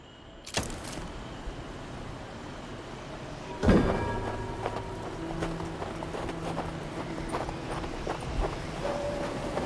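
Horse hooves clip-clopping in the Western video game Hard West 2, a steady hoof rhythm at moderate distance with a sharp louder knock partway through and some faint vehicle-like rumble beneath.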